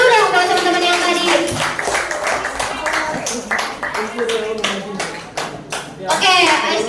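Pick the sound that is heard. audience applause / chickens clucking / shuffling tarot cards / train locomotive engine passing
audience applause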